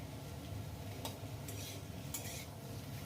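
Potatoes frying in a pan, with a spatula tip stirring them and working loose pieces stuck to the bottom. A soft, low sizzle runs under a few brief scraping strokes, quiet and close, with no talking.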